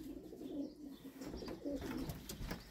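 Soft, low cooing from a pigeon with long wings repeats in a steady rhythm, close by, with a faint higher chirp in the background.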